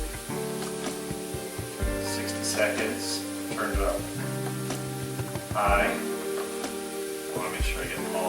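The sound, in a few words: vegetables sautéing in a pan for beef Wellington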